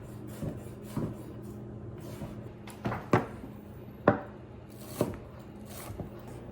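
A knife chops red onion for a pasta salad with several sharp, separate knocks on a cutting board, spaced about a second apart and fairly quiet against a soft background.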